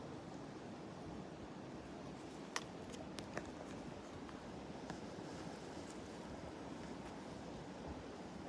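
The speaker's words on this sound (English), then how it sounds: "I can hear just like a river of water running right underneath me right now" Water rushing steadily beneath a mountain trail on the Appalachian Trail in North Carolina, a constant broadband roar with a few faint clicks, no voices.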